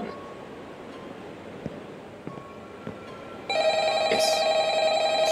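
A telephone rings in an office in a Minecraft game, starting abruptly after quiet ambience with a few soft taps, then a loud sustained electronic ring that continues to the end.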